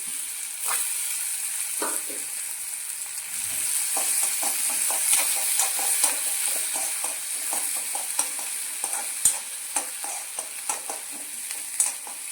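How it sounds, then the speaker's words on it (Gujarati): A spoon stirs fresh green turmeric frying in a pan for a Rajasthani dish, with steady sizzling hiss and a quick run of soft scraping strokes, close and alone. "હળદરને જરા હલાવતા રહીશું આવી રીતે।"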